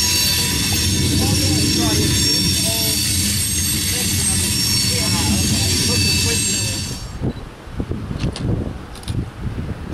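A CSX freight train, M350, rolls past on the Toledo branch near Deshler, Ohio, with a loud steady roar of wagons and squealing wheels for about seven seconds before it fades away into quieter ambient noise.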